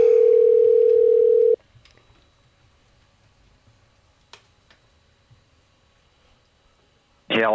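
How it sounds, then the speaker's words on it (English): A phone call placed over Bluetooth opens with a loud steady dial tone that cuts off, followed by near silence with a few faint clicks and taps, then a sudden loud burst as the line connects. "We're going to call him right now on our Bluetooth."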